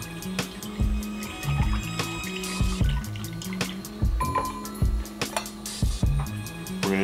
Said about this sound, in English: gonna whisk that together